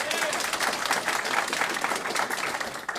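A live audience at a Chicago show claps hands together in a dense, steady burst of applause that fills the room throughout, with some crowd voices mixed in.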